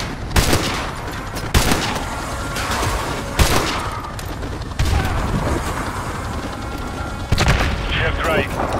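Sniper gunfire in the video game Call of Duty Modern Warfare 2, several sharp loud shots spaced a second or two apart, over a continuous battlefield rumble and radio voices talking.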